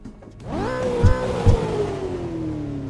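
A loud car engine revs up hard, climbing in pitch, then settles into a long, slowly falling drone, with a couple of deep thumps partway through.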